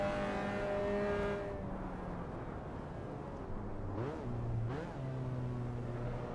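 Race car in the Assetto Corsa EVO driving game, engine droning steadily with stepped pitch changes as it downshifts through gears, two quick blips near the end, no talking.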